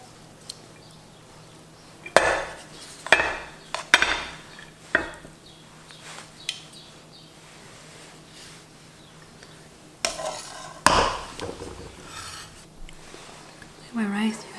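Cooked vermicelli rice being plated: close scrapes, clinks and taps of utensils against dishes come in scattered bursts, mixed with soft rubbing and a brief voice near the end.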